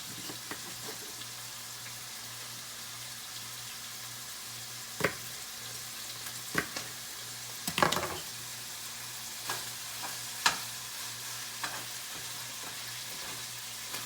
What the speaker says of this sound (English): I'm browning my meat.